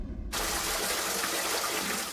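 Water seeping into a flooded basement in Dauphin, a sudden onset of steady rushing, trickling water that runs continuously, close and fairly loud.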